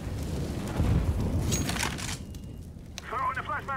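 A grenade detonates in CS:GO, a heavy booming blast with low rumble fading over a couple of seconds, followed by a voice speaking near the end.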